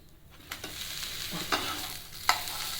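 A dosa sizzles on a hot griddle in steady broadband hiss, with a few brief scraping clatters as it is pried up and flipped over; close and moderately loud, with no talk.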